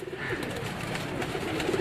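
Flying pigeons on a rooftop in Sialkot, prepared for the racing season, keep up a steady, close murmur of cooing with a soft fluttering texture and no pauses.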